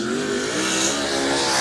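A modified race car roars steadily around the oval at Macon Speedway during an evening qualifying lap, its engine loud and sustained with a dense rasping tone throughout.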